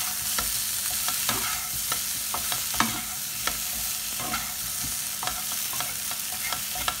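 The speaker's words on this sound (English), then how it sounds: "Let them fry again." Potatoes frying in ghee for dhaba-style aloo, a steady dense sizzle with occasional spatula scrapes and taps as they are stirred in the pan, close and continuous.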